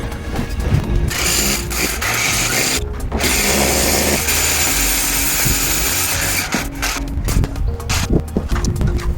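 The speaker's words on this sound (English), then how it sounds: "So we're just going to drill through, but we're going to drill from a slight angle." A power drill bores at a slight upward angle through an exterior brick wall, a loud continuous grinding rumble with brief pauses and rattling bursts, heard alone without speech.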